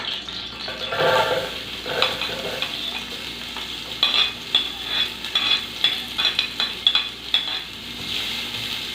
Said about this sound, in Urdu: ہمارا آئل جو ہے ہلکا گرم ہو چکا ہے، اب اس کے اندر ہم پیاز ڈالیں گے۔